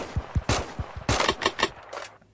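An SVD rifle in the Roblox game Cops N Robbers fires rapidly, about a dozen sharp, close shots in an uneven fast rhythm, with the final shots tailing off quieter.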